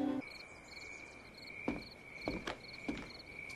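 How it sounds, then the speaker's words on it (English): Crickets chirp steadily in a quiet night scene, a constant high trill with a few soft taps and rustles nearby. "just listening to the crickets chirp."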